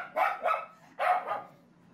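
A dog barks three times in quick succession, sharp and close, with a short pause before the last bark and quiet afterward.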